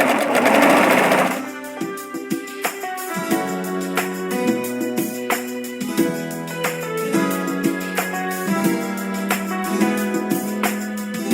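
A sewing machine stitches lace onto panties in short, rapid bursts of rhythmic mechanical whirring, starting and stopping repeatedly at close range after a brief rustle at the start.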